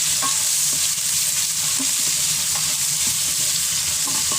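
Pork browning in a pan for Batangas lomi, a loud, dense, unbroken sizzle with small spatters and occasional soft stirring knocks, close up and free of talk.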